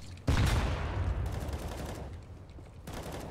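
Gunfire bursts out in a Counter-Strike match on Faceit, a sharp close volley followed by a rapid rattling spray that fades, then another short crack near the end.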